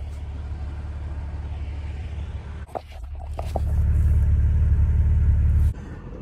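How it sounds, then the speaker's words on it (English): A car drives along a road with a steady, loud low engine rumble and road noise, a brief clatter midway, then the rumble swells louder before easing off near the end. "I hate driving down this road every fucking day."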